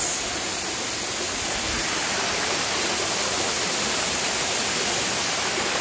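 Water rushes at Ng Tung Chai waterfall on Tai Mo Shan, Hong Kong, as a constant, full-bodied roar, near and loud, with no pauses or voices.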